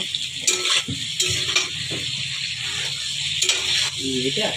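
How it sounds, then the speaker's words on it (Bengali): Tomatoes fry in a pan with a steady broadband sizzle, while a spoon occasionally stirs and scrapes against the metal and brief clinks break through. There are faint low background noises, and no one speaks. "ভালো করে ভেজে নেবো।"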